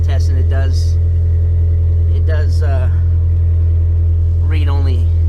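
A 20-valve 4A-GE black top engine swapped into a Geo Metro idles at a steady low hum around 1,100 RPM, with someone talking over it in short bursts.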